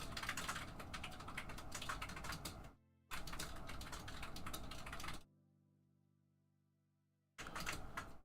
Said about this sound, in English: Painting wife is typing furiously behind me.